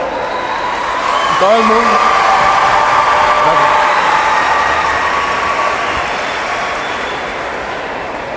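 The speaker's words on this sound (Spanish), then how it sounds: "Vamos a darles un aplauso." Broad crowd clapping swells through a school assembly or talk for young people, loud and steady before slowly thinning out, with a voice speaking over the start.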